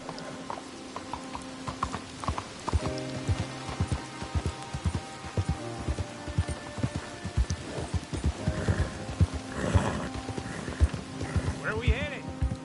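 Horse hooves clip-clop at a steady riding pace in Red Dead Redemption 2, with a whinny and light rain under frequent character dialogue.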